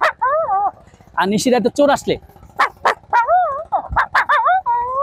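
A man imitates a dog, producing a series of yipping, whining barks in short bursts, close and loud, with brief spoken words between them.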